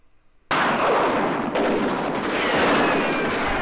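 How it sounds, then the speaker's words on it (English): Loud burst of artillery-style gunfire from a tabletop wargame sound effect, starting abruptly after half a second of near silence and roaring continuously at full volume to the end with no talk. "And he opens fire into the building."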